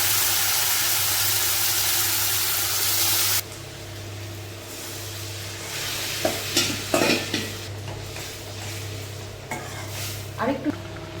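Food frying in a pan while being stirred, a steady sizzle with repeated scraping stirs, loud at first and then quieter with occasional clanks of the utensil against the pan.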